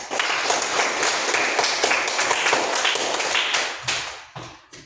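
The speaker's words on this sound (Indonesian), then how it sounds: "Tepuk tangan untuk dia." Short burst of classroom applause for a student answering a question, many hands clapping together at close range, then thinning to a few scattered final claps.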